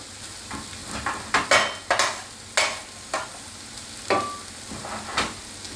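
Thai scrambled egg with tomato is stirred in a hot pan, with a soft sizzle underneath and a series of sharp, separate scrapes and clacks of the utensil at irregular intervals.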